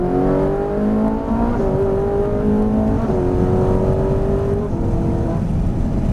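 A Ferrari 458 Italia accelerates hard on a race track at Trappes, its engine loud, close and continuous, climbing in pitch through several upshifts with no voices.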